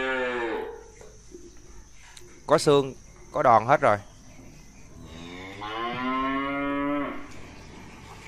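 Cattle at a Tra Vinh cattle market give two loud, close, drawn-out moos in the middle, while someone talks before and after them.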